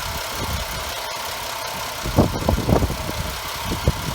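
A car engine idles steadily on an auction lot. The low, even rumble carries a few louder knocks and rattles midway, and no one speaks.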